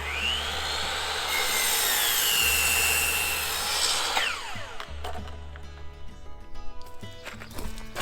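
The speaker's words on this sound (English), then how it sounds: "I'm going to use a 45-degree miter cut on each of them and overlap them that way" A power saw makes a 45-degree miter cut through boards for a porch roof. A loud, whining cut runs for about four seconds and then winds down, followed by scattered knocks and handling of the boards.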